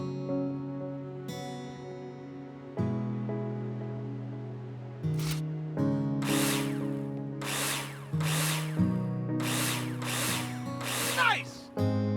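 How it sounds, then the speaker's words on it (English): Power drill driving screws into plasterboard in Builder Simulator, with repeated short whirring bursts of the drill over a steady tonal game music bed, each burst close and fairly loud. "Take your drill out and screw them in."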